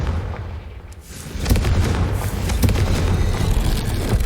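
Confringo blasting spell in the Hogwarts Legacy video game, a deep booming burst around the middle followed by rumbling impacts and crackling debris, loud and close, without any talking.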